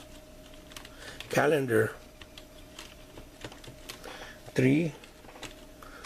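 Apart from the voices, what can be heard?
typing on a computer keyboard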